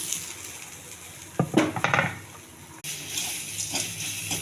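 Sliced ridge gourd frying in a pan, with soft sizzling, a burst of clatter and stirring in the middle, then steady frying hiss afterward, close and moderately loud.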